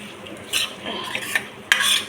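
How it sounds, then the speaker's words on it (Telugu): Minced mutton keema is stirred and roasted in a pan, with sharp scrapes and clinks of a spoon against metal over a soft sizzle, a few close strokes in quick succession. "ఫ్రై చేస్తే ఏ విధంగా వస్తుందో దీన్ని బాగా ఎర్రగా రోస్ట్గా వేయించుకోవాలి"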